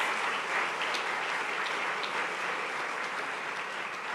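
Church congregation applauding during a Spanish-language sermon, a steady dense wash of many hands clapping at moderate distance throughout, with no speech over it.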